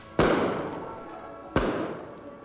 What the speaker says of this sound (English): The daytime fireworks seem strange at first.